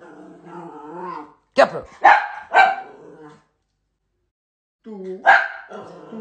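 Dog barking in short loud bursts amid shouted Italian voices, with a sharp bark cluster in the middle and another near the end, close and forceful.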